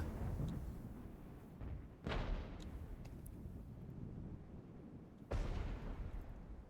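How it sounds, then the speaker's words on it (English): Artillery fire in the Regiments video game: several loud, sharp blasts with rumbling tails, two especially heavy shots a few seconds apart, over a continuous dense battlefield roar. "Wish I had that artillery still. That was big."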